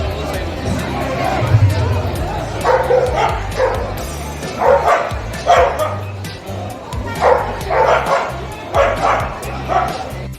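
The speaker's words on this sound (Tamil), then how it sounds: "சிப்பிப்பாறை, இதுக்கு ஒரு பேர் வந்து சிப்பிப்பாறை. வேட்டைக்கு சிறந்த நாய் இது." A Chippiparai hunting dog barks and yips in repeated loud bursts, close by, while people talk around it.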